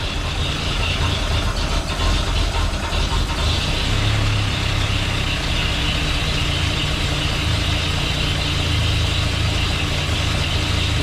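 A car engine idles steadily close by, its rumble holding level for about eleven seconds with slight swells where a little gas seems to be fed in.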